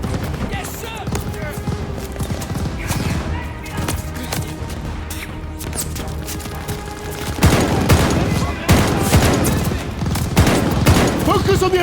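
Machine gun fire in the Call of Duty Vanguard video game, loud dense bursts of rapid shots layered with other gunfire, thuds and battle noise, growing heavier and more intense in the second half.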